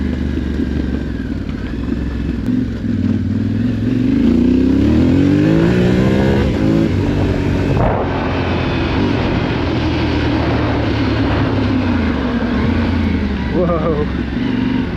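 A Yamaha Tenere 700 motorcycle engine revs while riding, a loud continuous rumble rising and falling in pitch through several throttle sweeps, heard close with wind noise and a rider's voice over it.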